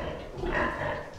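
Young piglets on a farm give a short burst of low grunting, close and moderately loud, lasting about a second with no voices over it.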